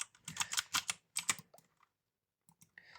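Close, quick bursts of typing on a friend's mechanical keyboard, two dense flurries of clacking keys followed by a pause and a few scattered keystrokes.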